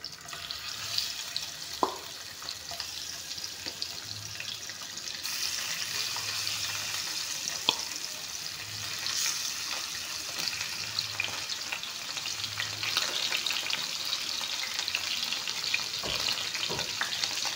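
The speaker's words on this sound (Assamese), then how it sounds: "এয়া মাছখিনি ভাজি ল'ম।" Fish pieces frying in hot refined oil, a steady close sizzle running throughout with a few sharp pops and clinks, no talking.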